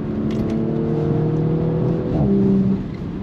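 An Audi S5 with 400 hp sounds its engine in a steady, loud drone, its tone shifting partway through as the exhaust gives a brief pop at a gear change.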